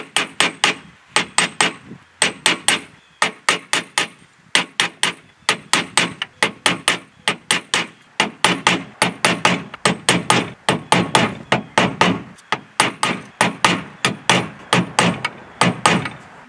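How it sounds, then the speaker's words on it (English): A hammer taps a socket to seat a valve cover gasket on a 1993-1997 Toyota Corolla, dozens of quick, sharp metallic knocks in steady bursts, close and loud, with brief pauses between runs. "Grab the socket, and tap it down gently."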